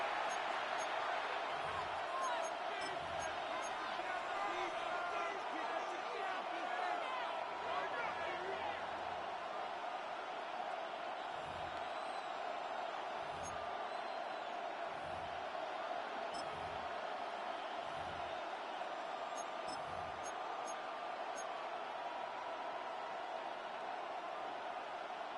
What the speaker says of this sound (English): This crowd into it now as we get to third down.